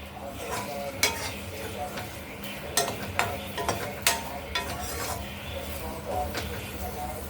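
Okra being sautéed and stirred in a pan for a South Indian vendakkai sambar, with a low continuous sizzle broken by several sharp spatula scrapes and clinks against the pan, close and moderately loud.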